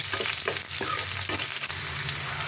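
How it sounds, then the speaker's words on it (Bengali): Chopped onion frying in oil with a bay leaf, giving a dense, steady sizzle close by, with soft scraping strokes of a stirring spoon scattered through it. "পেঁয়াজটা একটু ভাজা ভাজা হয়ে যায়"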